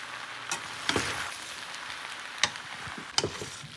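Macaroni being mixed with seasoning in a hot pan, with a soft frying hiss and a few scattered scrapes of the spoon against the pan.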